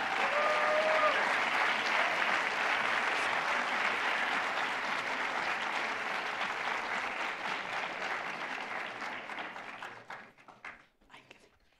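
An audience at a Leadership Montgomery event breaks into sustained applause that stays full and steady for several seconds, then thins out to scattered claps and fades.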